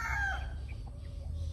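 A gamecock crows once near the start, a short hoarse call, followed by faint clucking from hens and pullets and background noise.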